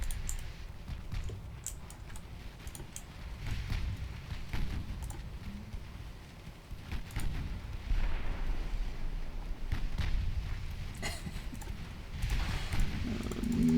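Heavy 9-inch naval guns boom repeatedly in the warship game Ultimate Admiral Dreadnoughts, irregular deep thuds and rumbling blasts heard at a distance over a low continuous rumble.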